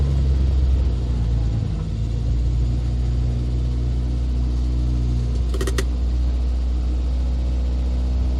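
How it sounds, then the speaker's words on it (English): A Mini's engine idles steadily, set slightly high, with a constant low rumble and hum, unchanging throughout, with a brief faint click midway. "I think the idle in this car is set a little bit too high, to be honest."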